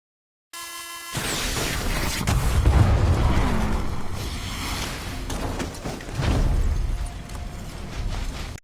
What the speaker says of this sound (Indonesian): tiba-tiba terjadi kebocoran yang mengakibatkan ledakan